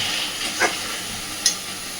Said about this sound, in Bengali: সুন্দর করে মশলা কষতে থাকবে যতক্ষণ না তেল ছাড়ছে বা কাঁচা গন্ধ যাচ্ছে